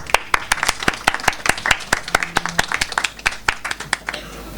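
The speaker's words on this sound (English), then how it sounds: "Give her another round of applause, please." Audience applause at a poetry slam at a literature festival, a close, steady run of sharp individual claps from a small crowd lasting several seconds with no speech over it.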